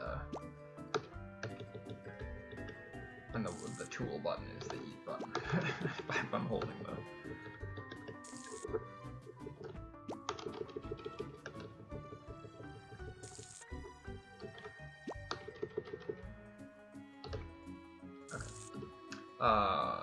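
Crops being watered in the Harvest Moon: Save the Homeland video game, heard as repeated small watery drips and plops under steady talk and game music.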